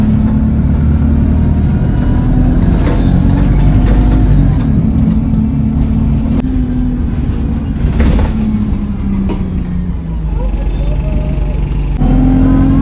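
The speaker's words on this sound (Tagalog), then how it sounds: "Nasa bus kami." Bus engine heard from inside the cabin, a loud continuous low drone whose pitch rises and falls gently as the bus moves.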